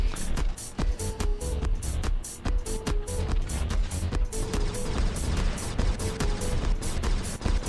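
Rapid gunfire from robot weapons in the War Robots video game, dense bursts of sharp, loud shots repeating in quick rhythm over a rumbling low backdrop, continuous with no pauses.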